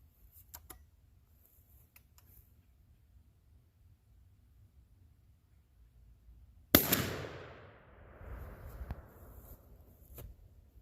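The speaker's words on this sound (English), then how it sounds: "see what it'll do with a round of buckshot" A single 20 gauge shotgun shot with Remington number 3 buckshot in 2 3/4 inch shells cracks sharply outdoors, followed by a long echoing rumble that fades over several seconds amid quiet ticks.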